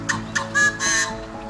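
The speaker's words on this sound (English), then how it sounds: "Yellow-headed blackbirds." Yellow-headed blackbirds give a short series of harsh, buzzy calls in open shrubsteppe, several raspy bursts close together over a low background hum.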